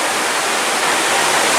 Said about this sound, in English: as you turn and hit this turn right here, just inside, you see this waterfall